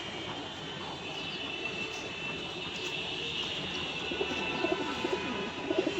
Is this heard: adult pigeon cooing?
yes